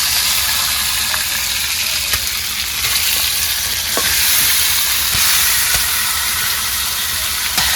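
Chicken meat hits fried onions in a hot pan, producing a loud, dense, continuous sizzle and hiss with occasional faint clicks of stirring, close by and with no voices.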